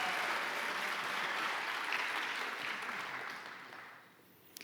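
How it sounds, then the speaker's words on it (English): A steady wash of crowd applause at an awards ceremony, sustained and fairly loud at first, then gradually fading toward the end. "Another round of applause."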